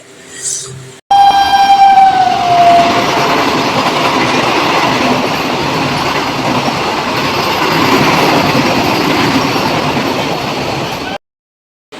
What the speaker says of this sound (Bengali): চলো এবার ট্রেন আসার অপেক্ষায়, দেখা যাক ট্রেন কখন আসে।